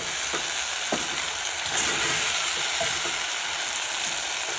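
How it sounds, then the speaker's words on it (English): Potatoes and spices being stirred in an egg curry pot over medium heat, a continuous frying sizzle with occasional scraping strokes of the spoon, close and steady, with no talking. "Then we stir."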